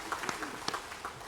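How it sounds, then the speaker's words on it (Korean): Church congregation clapping during a Sunday worship service, a fairly quiet, thin spatter of hands with a few sharper claps standing out, fading in and out over about a second. "박수를 하나님께 드리겠습니다."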